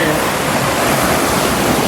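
A large waterfall at Skipton Castle Woods roars loudly and continuously close by, a dense rushing wash of water filling the short moment.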